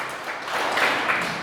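A church congregation claps together in praise, a dense short burst of applause heard from within the room, steady and moderately loud.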